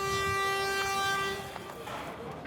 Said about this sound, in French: je crois que c'est un chauffeur de car qui klaxonne